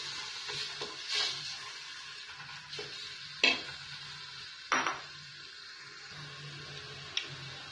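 Chopped onions go into hot oil in a pot, giving a soft, steady sizzle broken by a few sharp clanks and scrapes of a utensil against the pot.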